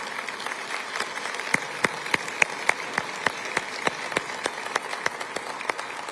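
Scattered, distinct handclaps from an audience at a State of the City address, a sparse, fairly steady rhythm of individual claps over a low room hum, faint rather than a full ovation.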